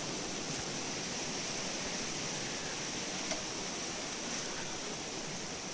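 Broad, steady rushing of a river flowing beside a rural crab-catching spot, constant and fairly near with no talk over it.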